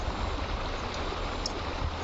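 The river at Tiro in Aceh flows as a steady, dense rush of water, close and continuous without pause, with no voices.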